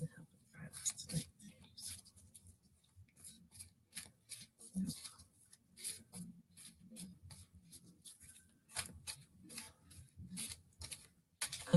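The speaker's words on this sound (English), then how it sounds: "we'll keep shuffling" A deck of cards is shuffled by hand during a live online reading, with soft, close, repeated riffling bursts in an uneven rhythm and quiet pauses between them. A voice speaks faintly at times.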